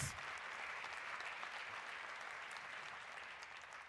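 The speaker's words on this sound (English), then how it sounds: "give yourselves a round of applause" A crowd of graduates at a commencement ceremony applauds steadily, a dense wash of clapping that holds evenly throughout with no voices.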